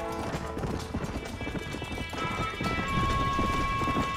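Wild horses gallop in Red Dead Redemption, a fast clip-clop of hooves pounding in a steady rhythm, fairly close, with in-game ambience underneath and no speech.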